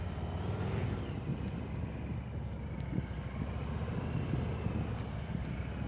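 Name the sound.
motorcycle throttle during slow speed riding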